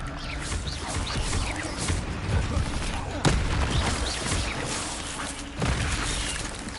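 The Expelliarmus spell goes off in Hogwarts Legacy, a sharp magical crack among dense, loud combat effects and rumbling noise, with a voice speaking over the fight.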